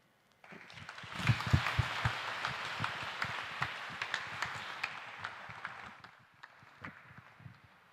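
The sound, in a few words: audience applause for a performance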